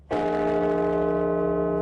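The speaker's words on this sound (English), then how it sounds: "Bells tolled for each of the victims" A single church bell strikes, tolling for victims of a tragedy in Russia, and rings on with a rich, sustained hum that fades slowly, loud and alone.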